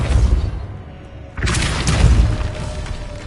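A Depulso force spell cast in Hogwarts Legacy lands as a sudden deep boom with a crashing burst, after a low rumbling lead-in, loud and close with no talking.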